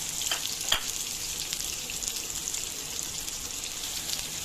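Chopped onions, about three medium ones, sizzle in oil for a coconut prawn dish, a steady soft frying hiss with a couple of sharp crackles and stirring near the start.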